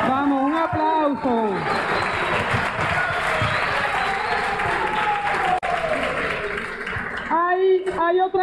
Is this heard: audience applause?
yes